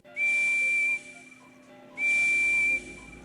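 Steam locomotive whistle from a Thomas & Friends train game: two clear, sustained shrill blasts of nearly a second each, separated by a short pause, over a quiet background with no voices.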